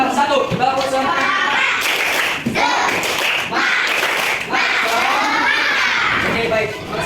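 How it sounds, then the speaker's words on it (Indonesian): A school class claps out a rhythmic group chant together, loud bursts of clapping mixed with children's and adults' voices in a classroom. "Mari kita tepuk semangat. 3, 2, 1. Tepuk semangat."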